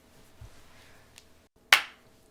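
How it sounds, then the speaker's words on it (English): A single sharp hand clap, close and sudden, standing alone after quiet room tone, with a quick fading tail. "Damn, that clap sucked."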